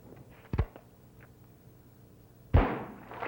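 Two sharp gunshots a couple of seconds apart, the first crisp and short, the second louder with a noisy burst as a trick shooter hits balloons held between children's thumbs at a country music show.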